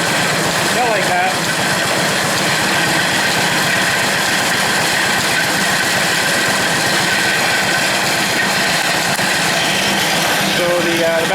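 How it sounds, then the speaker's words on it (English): An old engine drives an antique corn grinder by belt, giving a loud, steady mechanical rumble and clatter that runs without a break, with a faint voice mixed in. "So the belt's still cracking, not too bad. I had to adjust it there a little bit. Engine's running good."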